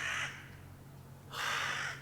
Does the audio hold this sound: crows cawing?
yes